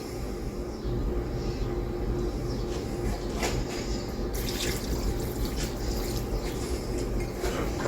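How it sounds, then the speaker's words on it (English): Water poured into a pan of cheesy macaroni on the stove, a steady wet sloshing and pouring close by with occasional clinks, no talking. "So let's add more water."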